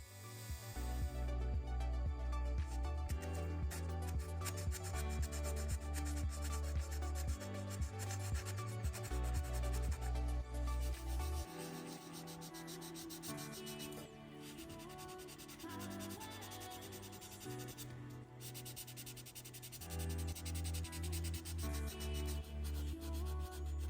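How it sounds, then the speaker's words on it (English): Rapid, steady rasping of a small round file scraping against a hard plastic model car part, repeated strokes in close succession with a brief lighter stretch midway. "assisted by my rotary hand tool and a little round file"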